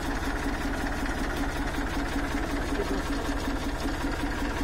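A tractor engine runs in an orange orchard during pesticide spraying, giving a steady, loud, close mechanical drone with a fast rattling pulse throughout and no voices.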